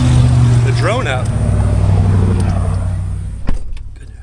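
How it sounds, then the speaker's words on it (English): Loud, steady motor-vehicle roar of road traffic passing close by a Sudan grass field, with a brief whistling sweep near the start and a sharp thump late on, and no talk over it. "Goodness, traffic is loud."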